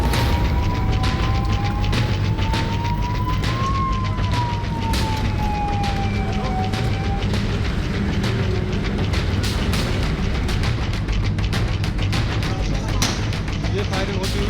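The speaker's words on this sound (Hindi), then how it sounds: "ये फायरिंग होती" Gunfire during violence in Nuh, Haryana: sharp shots crack repeatedly and irregularly over a loud, steady background, while a siren wails early on and voices can be heard.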